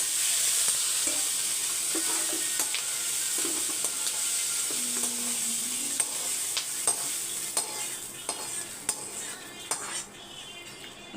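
Half-cooked capsicum for a capsicum paneer onion gravy sizzles in a pan as a metal spoon stirs and clinks against it, the scrapes and taps growing sharper and more frequent toward the end.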